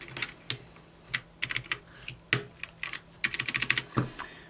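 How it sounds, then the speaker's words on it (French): Keycaps pressed back onto the switches of a G Lab Keyz Thallium 60% RGB mechanical gaming keyboard, a close series of sharp plastic clicks and snaps, irregular and clustered, with brief pauses between presses. "Ensuite, vous reprenez les touches, et vous les remettez par-dessus."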